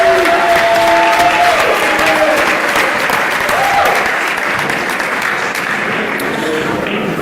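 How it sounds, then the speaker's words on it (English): Sustained applause from a large audience at a college athletics banquet, dense clapping with a few cheers and voices mixed in, steady and loud throughout. "Please join me in thanking these individuals for the additional support this past year with a round of applause."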